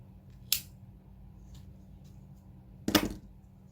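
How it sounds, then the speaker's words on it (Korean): Scissors snip through knitting yarn while a mink scarf is being finished, two short crisp cuts about two seconds apart over a low steady hum. "이거는 가위로 잘라 주시면 되고요"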